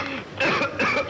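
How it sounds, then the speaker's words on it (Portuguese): A person coughs in a short burst of two or three rough, throaty coughs, close and loud. "Faça a tosse."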